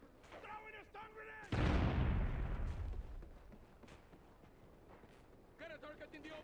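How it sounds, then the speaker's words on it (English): A stun grenade goes off in Call of Duty: Ghosts during a Search and Destroy match: one sudden loud burst that rings and fades over about a second, with game voices calling out before and after. "Throwing a stun grenade!"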